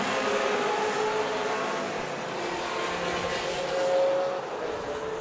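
Late-1960s and early-1970s American muscle cars, including a Corvette and a Boss 302, race at Virginia International Raceway during an SVRA vintage event, engines roaring as one continuous loud wall of sound that swells as the pack passes.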